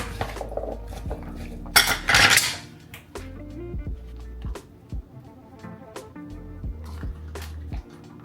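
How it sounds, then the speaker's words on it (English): Cheesy dish stirred with a utensil, seasoned with juice, salt and pepper, giving close, irregular clinks and scrapes against a bowl, with a louder rattling burst near the start and scattered knocks afterward. "Now we're gonna mix."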